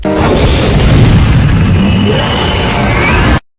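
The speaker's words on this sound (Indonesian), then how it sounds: "bintang akhirnya mendarat dan menyebabkan ledakan" A fallen star lands with a loud, booming explosion in the fantasy film Stardust; a sudden deep blast rolls into a sustained roaring rumble that holds steady before stopping abruptly.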